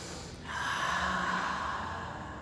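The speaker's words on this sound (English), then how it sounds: "take a deep breath" A single deep inhalation during yoga meditation, a close, steady airy breath that swells after a short pause and then slowly fades.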